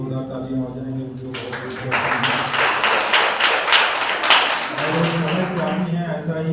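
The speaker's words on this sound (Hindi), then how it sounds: "एक बार शिवानी के लिए जोरदार तालियां हो जाएंगे" Loud applause and clapping from a church congregation at a Sunday service, rising after a brief spoken lead-in and filling the room continuously, with voices under it.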